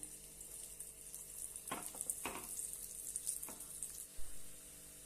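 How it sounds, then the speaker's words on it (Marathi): Slices of elephant foot yam fry in hot oil, a steady faint sizzle broken by a few soft scraping stirs and a light knock near the end. "दोन्ही बाजूने आपण मस्तपैकी फ्राय करून घेऊया"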